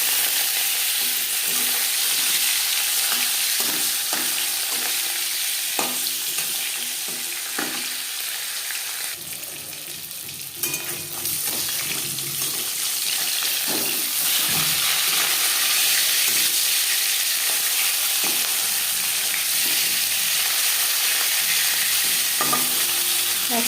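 Pieces of rui fish fry in hot oil over a high flame, giving a loud, steady sizzle and hiss throughout. Faint clicks and stirring knocks come through now and then, and no one speaks.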